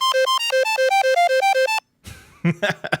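A Nokia 3310 plays a bright composed ringtone melody of quick repeated beeping notes for almost two seconds, then stops abruptly and a voice speaks.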